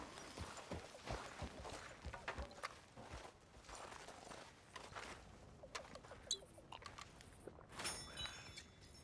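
Horse hooves clip-clopping in Red Dead Redemption 2, a steady run of quiet, close hoof knocks at a walking pace, with a few sharper clicks and brief ambient sounds later on.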